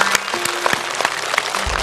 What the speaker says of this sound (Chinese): 再次热烈的掌声送给张国政